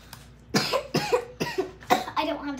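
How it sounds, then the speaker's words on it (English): A person coughs repeatedly up close, a string of about six harsh, short coughs in an uneven rhythm. "I've been coughing a lot"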